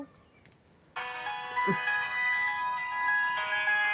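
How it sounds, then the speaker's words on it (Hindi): A bright electronic melody suddenly starts and keeps playing, a phone ringtone chiming loudly over a quiet background with a brief voice underneath. "उसका फोन आया है"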